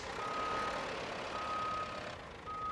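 A heavy truck grinds along in the video game RoadCraft, with its engine drone close and steady under repeated reversing beeps.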